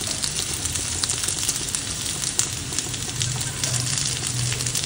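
Pieces of drumstick (shevga) sizzle and fry steadily in an oily pan after being turned over, a dense, continuous crackle at close range with no pauses.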